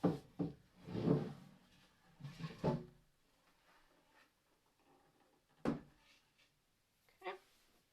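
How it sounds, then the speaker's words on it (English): A drawer is pulled out of a wooden dresser during waxing and refinishing work. Soft, close wooden knocks and scrapes come in a few short bursts, separated by quiet pauses. "I'm actually going to pop this drawer off so I can get all the way around here."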